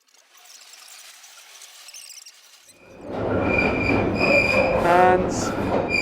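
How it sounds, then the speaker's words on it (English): A London Underground train near Kennington rolls in loudly after a quiet stretch, its wheels squealing on the points with rising, sweeping tones over a heavy rumble. "any moment now, the wheels should stop squealing"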